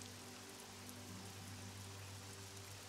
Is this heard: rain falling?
yes